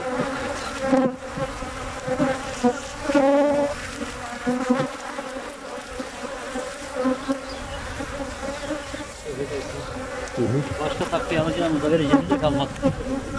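Honey bees swarming around an opened beehive during hive inspection, a dense, wavering buzz of many wings close by, rising and falling continuously throughout.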